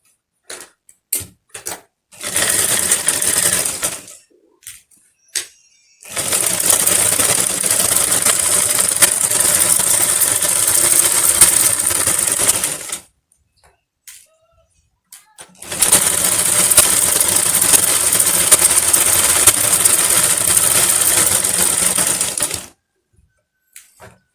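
A sewing machine stitching both sides of a skirt, running loud and close in two long steady bursts of about seven seconds each, with short pauses and brief handling clicks between.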